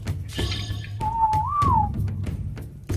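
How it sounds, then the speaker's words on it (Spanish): A single clear whistle in the survival game ARK rises slightly and falls over about a second, a smooth pure tone heard alone over faint background noise and a few soft clicks. "Un silbido."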